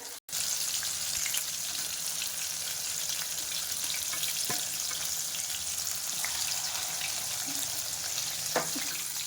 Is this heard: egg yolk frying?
yes